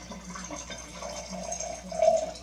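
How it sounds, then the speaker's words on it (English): Water trickles and splashes steadily into a mason jar, a soft pouring sound with gentle gurgles rising slightly near the end. "you're going to pour in the water"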